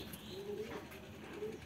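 A sick pigeon with a cold and fever gives faint, low coos while being handled and treated, soft murmuring notes heard close against quiet background noise.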